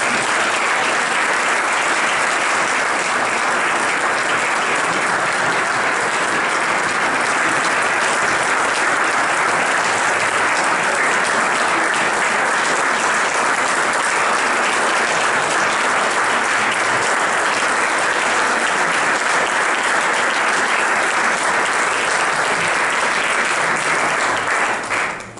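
A large audience claps steadily through a tribute event honouring a man, a thick, even wash of applause that holds at full strength for the whole stretch and only drops away at the very end.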